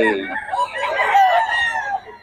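Young gamecock stag crowing close by in a loud drawn-out cock-a-doodle-doo lasting about two seconds.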